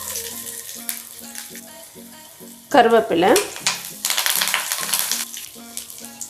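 Chana dal, urad dal, garlic and ginger fry in hot oil, a steady sizzle with bursts of louder spattering and stirring scrapes midway, while someone speaks briefly.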